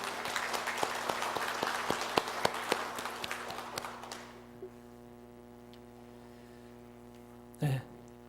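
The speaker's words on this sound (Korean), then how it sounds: "하나님께 영광의 박수를 올립니다." Congregation applauding at a Reformation Sunday church service, a dense wash of clapping for about four seconds that fades into a quiet room with low hum, followed by a brief thump near the end.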